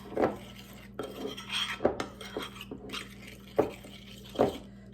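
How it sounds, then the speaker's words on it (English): Utensils clink against a metal pan or bowl while sweet and sour sauce is poured over green beans, a few sharp knocks and scrapes spread over several seconds in a quiet kitchen. "Pour this over the beans."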